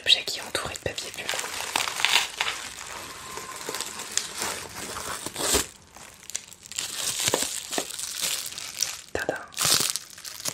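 Bubble wrap is unwrapped from a magic cauldron, with close, crisp crinkling and crackling bursts of plastic, intermittent and uneven, under soft whispering.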